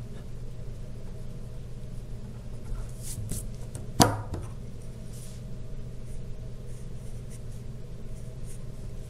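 A pencil eraser rubbing out lines on a paper drawing: soft, scratchy strokes in short bursts, close and quiet, with one sharp tap in the middle.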